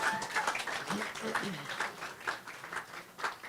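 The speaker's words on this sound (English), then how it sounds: "Give them a round of applause." Wedding guests at a ceremony applaud steadily, a continuous wash of clapping mixed with cheering voices and chatter throughout.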